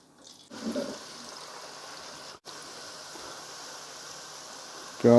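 Sliced onions go into hot oil for biryani and set off a steady, hissing sizzle that carries on evenly after a brief splashy start.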